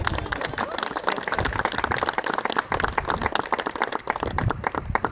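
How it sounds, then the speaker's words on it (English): Audience applause after a stage combat demonstration featuring performer Tyler Tanner: dense, sustained clapping from a crowd filling the room for about five seconds, loud and continuous with scattered sharper claps. "let's give him a round of applause"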